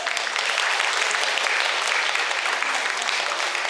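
Dense, steady audience applause fills a hall at an anniversary celebration for a 130-year-old brass band, loud and continuous throughout without a break.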